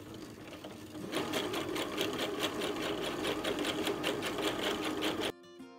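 A domestic sewing machine running a wide 4 to 5 millimeter stitch on trouser fabric, a fast steady mechanical rattle close by that stops abruptly near the end.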